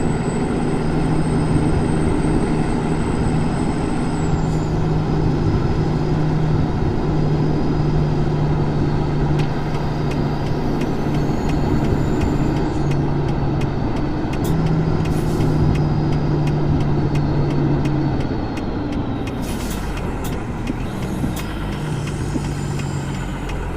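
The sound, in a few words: truck engine on a hill climb in a video game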